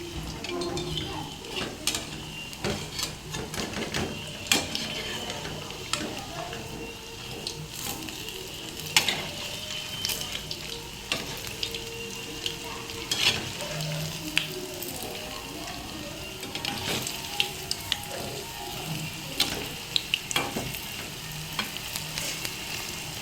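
Leftover dosa batter bondas deep-frying in oil, a steady crackling sizzle with clinks of a spoon turning them and scattered sharp ticks, running continuously throughout.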